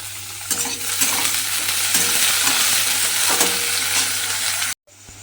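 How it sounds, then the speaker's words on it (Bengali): Pieces of pointed gourd fry in hot oil with a little salt, a loud, continuous close sizzle with spatula scrapes and stirring, then a brief sudden drop to quiet near the end. "দিয়ে পটলটা একটু লাল করে ভেজে নিতে হবে"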